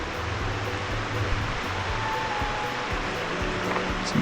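Rushing water of Etiwanda Falls heard on a hiking trail, a continuous broad roar of falling and flowing water that stays steady and fills the whole scene.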